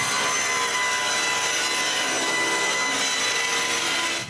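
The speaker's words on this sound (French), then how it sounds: "après avoir coupé la forme en V, là, je la coupe de la planche." Saw cutting a V-shaped piece of maple plywood free from a wooden board for a bathroom vanity, a steady, loud, continuous whine and rasp lasting the whole stretch without pauses.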